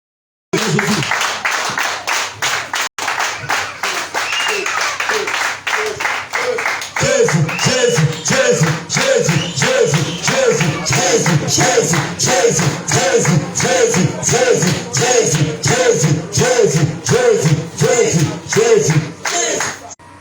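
A church congregation in Nikki, northern Benin, claps and cheers for Jesus, a dense rhythmic wave of hand claps and voices that swells louder after a few seconds and holds steady, close and lively throughout.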